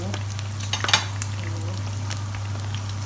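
Snakeskin gourami fish fry in hot oil with a steady crackling sizzle, a few sharper pops and a faint clink of utensils, alone and close.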